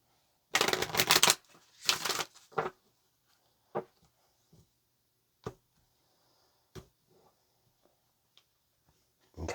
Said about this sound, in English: Just one more shuffle.